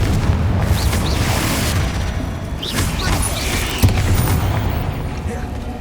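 Bombarda and Confringo spell blasts go off in a Hogwarts Legacy tomb scene, dense booming explosions layered over dramatic game music and rumble, loud and continuous with a sharper burst near the end.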